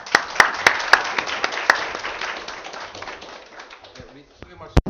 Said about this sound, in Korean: 여러분들 열렬한 박수로 우리 교수님을 맞도록 하겠습니다.